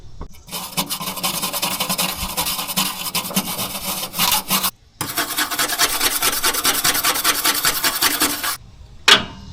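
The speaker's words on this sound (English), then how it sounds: "I might at least clean up some of these surfaces" Surfaces on a 1967 Plymouth Fury are scrubbed with a harsh, raspy back-and-forth rubbing, close up, in two long bursts separated by a brief pause.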